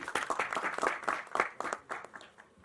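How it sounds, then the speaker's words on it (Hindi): An audience at a film trailer launch gives a hearty round of applause, close, uneven clapping from a modest crowd that thins out and tapers near the end. "जोरदार तालियां इनके लिए"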